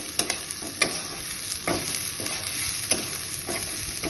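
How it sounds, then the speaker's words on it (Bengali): Chopped onions fry in a pan while being stirred, a steady bright sizzle broken by repeated scraping stirs, close and alone with no voices. "পেঁয়াজগুলোকে ভালো করে লাল লাল হওয়া অবধি ভেজে নিতে হবে"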